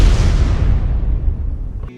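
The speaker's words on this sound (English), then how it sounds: "I heard a large explosion." A large explosion in the survival video game Ark Survival Evolved, a loud, deep boom that rumbles on and slowly decays over two seconds before cutting off, with no talking.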